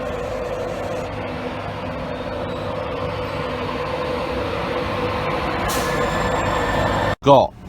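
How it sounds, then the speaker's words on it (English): An East Coast passenger train pulls into Doncaster station on the London King's Cross to Leeds service, a steady low rumble of wheels and engine filling the platform, ending with a sharp brief clatter. "here's the East Coast is coming in to Leeds from London King's Cross"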